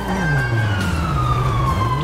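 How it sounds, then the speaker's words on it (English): A police car siren wails continuously at close range, its pitch gliding steadily up and down over a low vehicle rumble. "Siren's coming."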